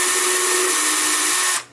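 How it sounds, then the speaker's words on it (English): A handheld Festool power drill whirs steadily at close range, loud and continuous for over a second and a half before abruptly stopping. "Got my handy dandy Festool drill that one of my wonderful viewers sent to me."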